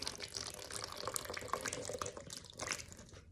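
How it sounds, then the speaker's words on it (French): Water from a neti pot running out through the nose during Ayurvedic nasal cleansing, a continuous close splashing trickle into a basin, uneven and bubbly, with no talk over it. "je penche l'arrosoir et je penche la tête. Et vous voyez, ça coule."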